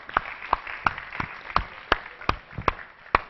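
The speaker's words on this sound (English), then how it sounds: "a huge round of applause to everybody that has done everything" Sparse, spaced-out hand claps, about eight or nine distinct slaps with irregular gaps, like a small group applauding briefly.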